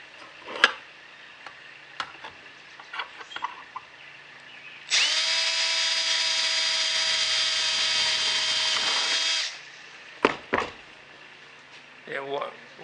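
A power drill drilling holes in metal spins up and runs at a steady whine for several seconds, with clicks, taps and handling noises around it.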